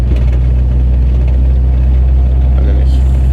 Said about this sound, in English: Then we get the engine back, and then we start to be able to pull away